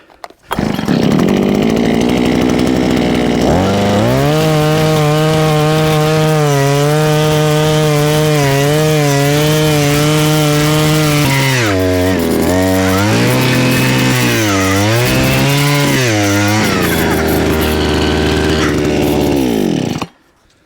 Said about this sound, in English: Now we're gonna finish our 4-foot hole up with this 8-inch auger